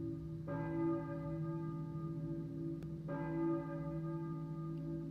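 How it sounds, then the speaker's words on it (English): A church bell tolls in the video game Silent Hill (1999), two resonant strikes about two and a half seconds apart, each ringing out with a long, sustained hum over a low ambient drone. "I hear a church bell, maybe? Who is ringing the bell?"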